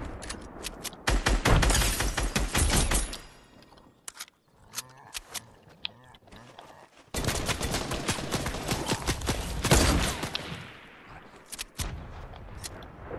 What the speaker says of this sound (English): Is that you that's shooting?